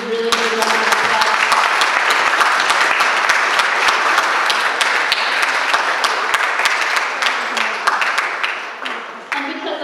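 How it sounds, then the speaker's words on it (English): A large crowd at a Houston fundraiser applauds loudly and steadily for nearly ten seconds, a dense roll of many hands clapping that holds strong before thinning slightly near the end. "Can we give them a really, really, really good round of applause?"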